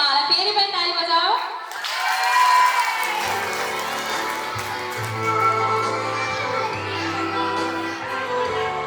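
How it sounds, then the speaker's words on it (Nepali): An audience applauds a student honoured as most obedient at a school dance academy's anniversary program, the clapping swelling after a musical phrase and continuing under background music and voices. "उहाँलाई फेरि पनि ताली बजाऊ"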